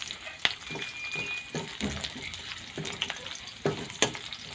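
Onion and garlic sauté in a hot pan with soft, steady sizzling, broken by several sharp stirring clinks and scrapes; fairly quiet and close, with no talk.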